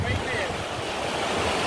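Rukmavati river in Kutch running high with lots of water after rain, a steady broadband rush of flowing water mixed with wind noise on the microphone, continuous and fairly close.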